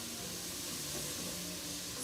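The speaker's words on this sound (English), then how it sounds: "So, we're gonna saute this a little bit. You can kind of hear the sizzle." Shrimp creole sautéing in a pan, a brief, soft, even hiss of sizzling that holds steady throughout with no voices.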